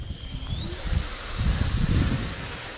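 A 3D-printed 90mm RC Saab Viggen model jet with canards and an electric ducted fan power unit whines loudly, its pitch rising and holding high over a rough, close rushing roar.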